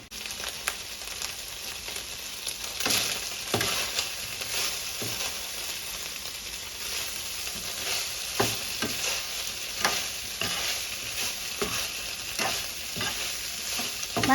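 Naem, Thai fermented pork, stir-fried in a hot pan with a continuous bright sizzle and frequent scraping stir strokes throughout, close and fairly loud.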